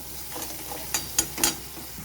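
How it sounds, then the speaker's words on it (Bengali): Ghugni, a vegetarian pea curry, is sautéed in a pan, giving a faint sizzle with a few quick scraping strokes from stirring near the end. No voices are heard. "এবারে আমি কিছুক্ষণ কষিয়ে নেব।"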